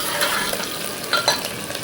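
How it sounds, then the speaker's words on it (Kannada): Curry leaves fry in oil in a pan while being stirred, a close crackling sizzle broken by scraping strokes of the spoon, with a couple of louder clinks partway through. "ಚೂರು ಕರಿಬೇವು ಹಾಕ್ತಾಯಿದ್ದೀನಿ. ಚೆನ್ನಾಗಿ ಫ್ರೈ ಆಗಲಿ ಕಲಿಸ್ತಾ ಇರಬೇಕು."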